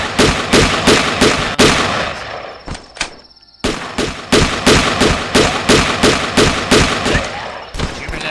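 Video game gunfire in loud, close, rapid rhythmic shots, a steady string of repeated bangs broken by a brief pause and a single metallic ring before the firing resumes.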